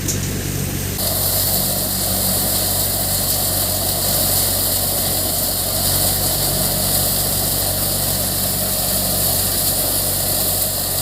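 Soybean threshing machine running steadily in an open farm field, a loud continuous engine drone with a constant mechanical hum that stays level throughout, with no voices.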